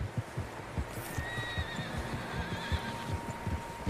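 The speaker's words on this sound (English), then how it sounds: "Horses, quite a few of them." Several horses in the video game Red Dead Redemption 2, heard as a shrill whinny rising over a steady, moderately close clip-clop of hooves.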